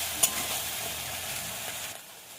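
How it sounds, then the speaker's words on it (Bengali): Onion paste sizzles and is stirred in a pan over very low heat for a jackfruit curry, a steady close frying hiss with one sharp scrape of the spoon near the start. "পেঁয়াজ বাটাটা ভালো করে মিশিয়ে নিয়ে যতক্ষণ না কাঁচা গন্ধটা যায়, আঁচটাকে একদম আস্তে দিতে হবে"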